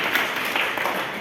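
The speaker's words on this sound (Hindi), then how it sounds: "इसके लिए एक बार फिर ताली" A crowd applauds at a Jain community calendar release ceremony, with dense, steady clapping throughout the brief moment.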